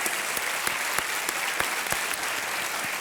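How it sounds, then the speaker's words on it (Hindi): A studio audience at a televised quiz show claps steadily, a dense wash of applause with sharp individual claps standing out, sustained and fairly loud with no talking over it. "तालियों के साथ इनका अभिनंदन"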